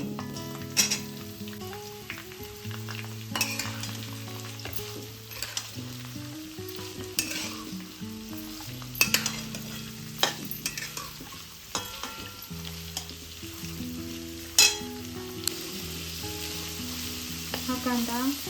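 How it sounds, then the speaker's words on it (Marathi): Chopped onion frying in a pan with steady close sizzling, punctuated by repeated scrapes and clinks of stirring, for a chicken biryani. "हा कांदा छान लालसर होईपर्यंत तळून घ्यायचा."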